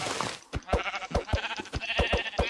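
Minecraft sheep bleat over and over in a dense, overlapping chorus, short nasal calls one after another from a flock close by, with no speech.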